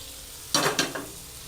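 Onions, tomatoes, cashews, coriander stems and chillies hit a hot pan for matar paneer, giving three quick sizzling bursts with stirring, the first loudest, then fading to quiet.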